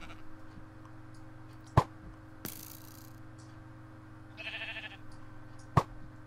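Sheep bleating in the Minecraft video game, two short sharp bleats a few seconds apart over a quiet background hum, with a couple of brief mechanical clicks and a soft rattle between them.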